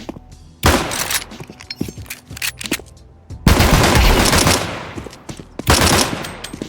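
Rapid-fire automatic gunfire in Counter-Strike 2, triggered by an autoclicker at 100 clicks per second on a controller, loud and close: three long sustained bursts of dense shots broken by short pauses and softer clattering.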